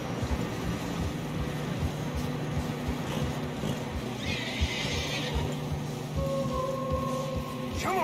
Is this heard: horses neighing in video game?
yes